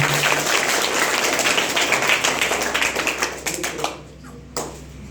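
An audience at a science quiz competition applauds steadily with dense clapping for a few seconds, then the clapping thins out and fades into a quieter room.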